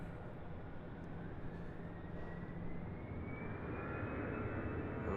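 A jet airliner departs Raleigh-Durham International Airport with a steady, distant engine roar that slowly swells louder, while a thin rising whine climbs over the noise.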